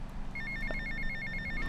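A mobile phone rings in GTA Vice City, a rapid repeating electronic trill pulsing over low game ambience and engine rumble for under two seconds.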